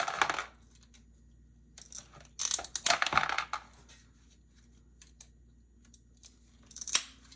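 Scissors cutting a piece of material for glass-frit ornaments, several crisp snipping bursts separated by quiet pauses, close and fairly soft, with no talking.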